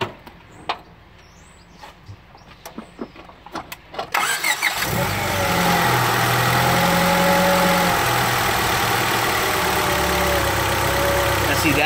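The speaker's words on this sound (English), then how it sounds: "now I'm gonna go start the car right now." Honda Civic engine after a spark plug change, heard first through several clicks and knocks, then cranking and catching at about four seconds and settling into a steady close idle.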